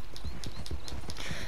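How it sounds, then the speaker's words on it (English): Horse hooves gallop at a fast, even rhythm in Red Dead Redemption 2, close and loud throughout the brief stretch. "How does this horse run out of stamina so quick?"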